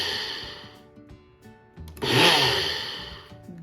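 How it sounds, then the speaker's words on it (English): A small grinder jar pulsing roasted sesame seeds, with a short whirring burst, a pause and then a louder, longer whir that slowly fades, heard close up. "In my grinder, it'll take only 2 pulses."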